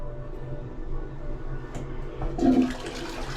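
A toilet flushes in an Italian restaurant restroom, a faint hissing rush of water swelling briefly near the end of a quiet few seconds.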